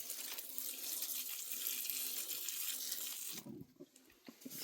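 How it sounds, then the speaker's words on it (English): Water hisses steadily from an adjustable-nozzle hand sprayer into a worm bin, then cuts off after about three and a half seconds, leaving a few soft close knocks and rustles. "Wash my hands while I'm spraying it with my sprayer."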